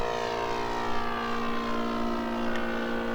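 Engine of a 1/4 scale Sopwith Pup RC model plane in flight, a steady distant droning buzz holding constant pitch throughout, with no voices.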